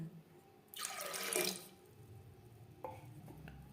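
Clean water pours into a pot of soaked matar dal in a single loud splashing burst lasting under a second, then a few light clinks and drips follow.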